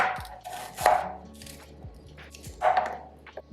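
A knife chopping a small shallot on a cutting board gives a few close, distinct knocks at uneven spacing, with light clatter between strokes.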